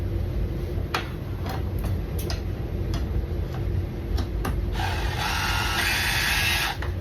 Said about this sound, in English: Let's grab our cordless driver again.